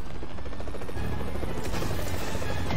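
A helicopter in the Marvel's Spider-Man video game gives a close, steady rotor chop with a mechanical rattle, loud and continuous for a few seconds.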